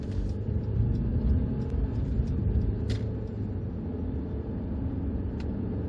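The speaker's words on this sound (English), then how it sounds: "let's see if we can get up some speed to get on this incredibly short slip road" SsangYong car with about 180 horsepower accelerating hard onto a very short motorway slip road, heard from inside as a steady loud engine and road rumble that swells slightly, with no talking.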